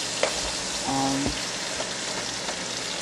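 Overnight-marinated meat spread out in a hot pan, sizzling in a steady, close, crackling hiss with a brief clink of a utensil near the start.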